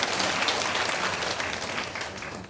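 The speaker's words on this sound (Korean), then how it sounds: "보면은 박수 한번 부탁드립니다" Church congregation applauding together during a Sunday worship service, a dense steady wash of many hands clapping at once, fairly loud and sustained, tapering off near the end.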